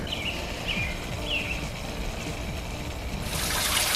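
A small garden pond fountain, bought secondhand, trickles water in a steady, soft, continuous babble outdoors; a few faint bird chirps rise above it, and a brief hiss of water noise comes at the end.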